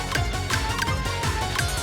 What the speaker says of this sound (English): Non-perfect challenge games sound like this.